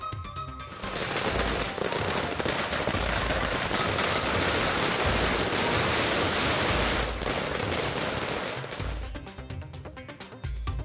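Firecrackers set off by DMDK party workers celebrating across Tamil Nadu, a loud, dense barrage of rapid crackling bursts that runs almost continuously for about eight seconds before thinning out.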